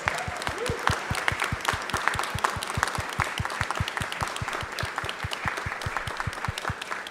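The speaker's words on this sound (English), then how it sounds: "I would like to give you all a round of applause for taking this step in your lives" Audience members at a citizenship naturalization ceremony clap in a brisk, steady round of applause, with individual hand claps distinct and fairly close.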